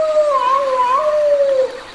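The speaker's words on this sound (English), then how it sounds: "A great big singing dog." A large dog howls in a children's TV show, a long wavering tonal howl that rises and falls, heard clearly up front before trailing off near the end.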